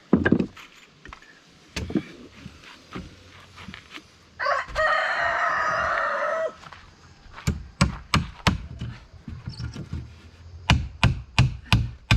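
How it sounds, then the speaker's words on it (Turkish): A rooster lets out one long, loud crow in the middle, surrounded by sharp chopping or knocking sounds and faint clucking nearby. "Horozluyor işte neyse."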